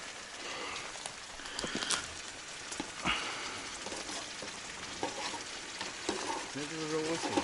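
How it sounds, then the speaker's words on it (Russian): Autumn rain falls in a steady, soft patter on a sand spit by the water, with occasional louder drops, continuous and fairly quiet. "Опять дождь пошел."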